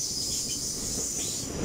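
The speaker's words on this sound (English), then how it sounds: "802-219 from Newcastle to Liverpool Arm Street" A Class 802 train, unit 802-219, runs through Darlington station on its way from Newcastle to Liverpool Lime Street, giving a steady, even rumble with a hiss of rail noise above it and no voices.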